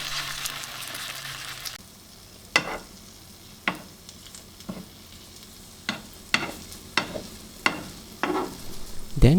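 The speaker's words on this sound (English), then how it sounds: "you can put in the mixed butter into the pan and you have to create a round shape" Okonomiyaki batter frying in an oiled pan, a steady sizzle with a run of sharp scraping taps from a spatula shaping it into a round, close and loud with no talking.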